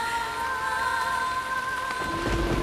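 Steady rain falling outdoors, a soft continuous hiss of drops with a faint low rumble building near the end, no voices.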